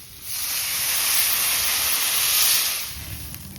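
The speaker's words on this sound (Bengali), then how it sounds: "এবার জল দিয়ে দিচ্ছি।" Water poured into a hot pan of fried stalks and potato with salt and turmeric gives a loud, steady steaming hiss that swells quickly, holds for about two seconds and then eases off.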